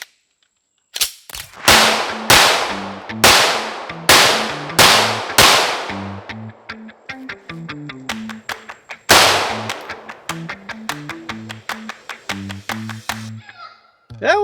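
A Lone Wolf Arms Alphawolf pistol slide fires P1 115 grain ammunition outdoors, with a fast string of loud, sharp close shots followed by quicker bursts, a brief pause, and another run of shots.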